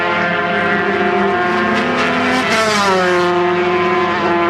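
High-pitched engine scream from 250cc Grand Prix racing motorcycles in a 1992 support race at Phillip Island, loud and continuous, with several bikes blending and pitch sweeping down as they pass close by.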